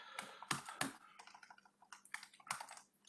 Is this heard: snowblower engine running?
no